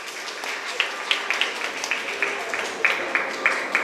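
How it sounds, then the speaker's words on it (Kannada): Applause at the annual general meeting of the Kulala Sangha in Kolya Someshwara, a modest crowd clapping at close-to-mid distance in a steady patter with sharper individual claps standing out. "ಚಪ್ಪಾಳೆ ಮಗ ಜೋರು ಚಪ್ಪಾಳೆ ಕೊಡ್ಲೆ"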